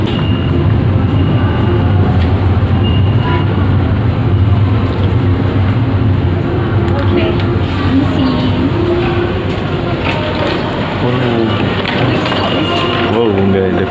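Inside a Taksaka passenger train pulling into Purwokerto station, a steady heavy rumble and rattle of the carriage fills the background while people talk over it.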